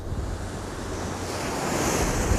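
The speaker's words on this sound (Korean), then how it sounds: "뽀얀 백사장 위로 하얗게 부서지는 파도가 정말 상쾌하게 느껴졌습니다." Ocean waves breaking on a sandy white beach on the East Sea in Korea, a steady, full roar of surf with some wind noise, continuous and fairly close, no voices.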